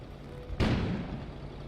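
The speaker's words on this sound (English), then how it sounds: "An explosion suddenly occurred outside." An explosion outside in the video game Kona, heard as one muffled, distant boom that bursts suddenly and then trails off into a low rumble.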